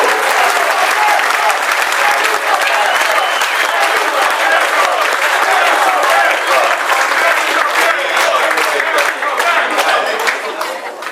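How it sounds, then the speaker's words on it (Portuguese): Dinner guests at a Guarani celebration of the 1978 title applaud coach Carlos Alberto Silva with loud, sustained clapping from a large room full of people, thinning slightly only at the very end. "Um salve de palmas para Carlos Alberto Silva, nosso maestro!"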